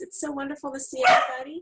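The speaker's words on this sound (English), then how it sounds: "I'm so sorry about my dog barking" A pet dog barks briefly during an online painting session, a short excited burst mixed with a woman's cheerful speech, close to the microphone.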